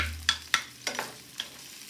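Onion and garlic sautéing in hot canola oil for monggo, a soft sizzle with a few sharp metallic clinks and scrapes of a utensil stirring in the pan, close and quiet, no speech.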